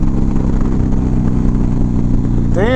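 A big motorcycle engine rumbles loudly and steadily up close, a deep throbbing idle with rattling, vibrating mirrors, and a brief rising whine at the very end.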